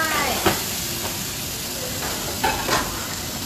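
Vegetables stir-fried in a home kitchen pan, with a steady sizzling hiss and occasional clanks of a spatula against the metal, close and moderately loud.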